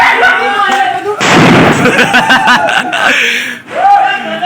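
A Diwali firecracker bomb bursts with a loud crackling blast in the middle, amid excited, laughing voices of friends talking close by.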